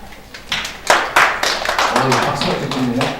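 Audience applause at a Korean panel debate on accounting-fraud lessons, a scattered patter of clapping hands in a conference hall, building and holding steady over a few seconds with speech mixed in.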